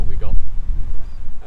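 Strong wind buffets the microphone outdoors on a fishing trip, producing loud, uneven low rumbling gusts that fill the whole moment with no voices over it.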